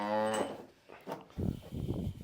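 A milk buffalo at a farm gives one short, close moo at the start, followed by soft shuffling and rustling sounds.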